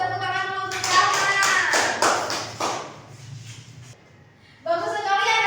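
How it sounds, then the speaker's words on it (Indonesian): Elementary school pupils in an Indonesian-language class clap for a classmate, a burst of sustained, mixed handclaps lasting a few seconds. A teacher talks just before it and again after it ends. "tepuk tangan dulu untuk Salma"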